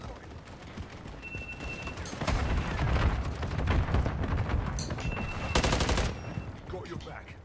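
Bursts of automatic gunfire in Modern Warfare 3 multiplayer, rapid rattling volleys that swell and fade with heavier booms mixed in, loud and continuous over a background of game noise.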